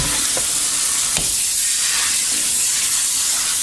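Steady broadband spray of water hissing continuously while a Shih Tzu is rinsed during a bath, with a couple of brief knocks near the start and no talking.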